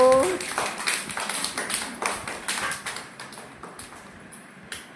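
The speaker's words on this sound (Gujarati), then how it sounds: "તાળી પાડો." Children clapping their hands together in an anganwadi classroom, a quick burst of uneven overlapping claps that gradually thins out and fades, fairly close, with a brief voice at the start.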